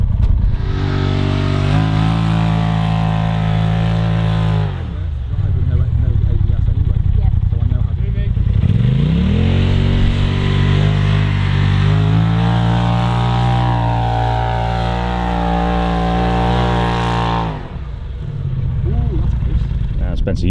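Polaris RZR side-by-side engine revving loudly as it climbs a sand dune in Morocco, a steady roar that dips briefly twice before surging again.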